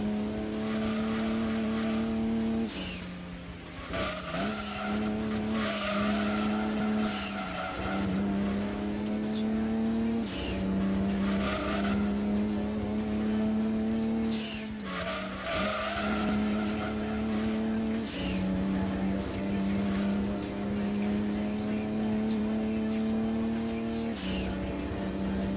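Race car engine in Gran Turismo 2 with the Project A-Spec mod, a loud continuous high-revving drone that rises and drops with repeated gear shifts and tyre squeal, steady and close throughout.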